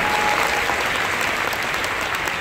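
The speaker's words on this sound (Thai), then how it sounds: "ปรบมือหน่อยให้ตัวเองหน่อยนะคะ" Audience at a Global Summit event applauds in a dense, steady burst of clapping that stays loud and even throughout, with no talking.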